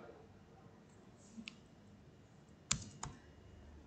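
Computer keyboard keys clicking in a few quiet, scattered taps, with a small cluster of sharper strokes near the end against a faint room hiss.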